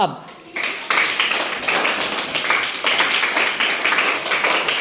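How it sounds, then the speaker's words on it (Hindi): A classroom group claps on request for a student's correct answer about a Hindi poem, a dense, loud burst of many hands that starts abruptly and continues steadily to the end. "वेरी गुड, तालियां बजाओ"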